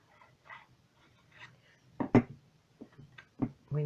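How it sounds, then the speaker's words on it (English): A dog barks at a back gate, several sharp barks clustered near the end of the clip, moderately close, with quieter rustling and faint background activity before them. "Oh, she's still having a good old bark."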